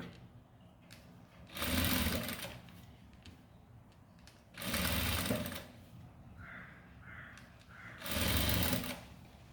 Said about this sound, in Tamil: நான் மெதுவாக தான் தைக்கிறேன், ஸ்பீடு போகலை